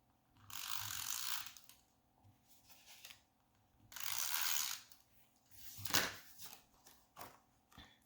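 A snail tape runner rolls adhesive onto layered paper in a paper crafting session, giving two long ratcheting, clicking passes followed by a few short sharp clicks, close and alone.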